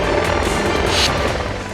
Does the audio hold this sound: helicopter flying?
yes